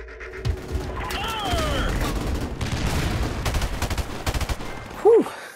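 Rapid M16A4 rifle bursts in the shooter game Modern Warfare, a dense run of sharp gunfire cracks rolling on for several seconds amid battle noise and other game sounds.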